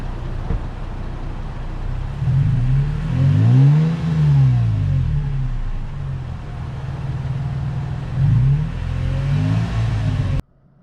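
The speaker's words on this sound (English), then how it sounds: "Let me see if I can get a video of the exhaust so you can hear it." A 2020 Toyota Tacoma TRD Pro's exhaust revs up in two distinct blips, rising and falling with a deep rumble over a steady idle, close by, cutting off abruptly at the end.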